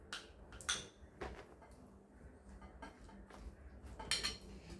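Cucumber and carrot salad being mixed with mayonnaise in a bowl for homemade shawarma, with soft scraping and clinks of a utensil against the bowl, quiet and close, coming in a few short bursts.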